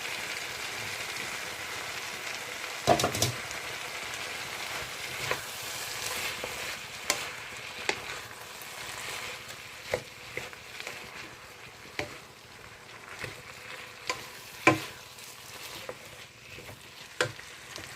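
Sweet potato, potato, carrots, bean sprouts and cabbage sizzle steadily in a pan, with intermittent scraping and tapping of a spatula as the vegetables are stirred, close and fairly quiet, with no talking.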